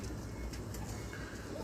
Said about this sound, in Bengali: এগুলো আমাদের কবুতর